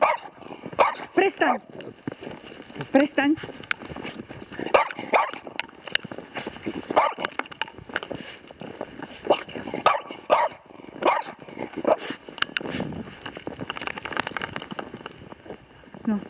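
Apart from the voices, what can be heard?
dog barking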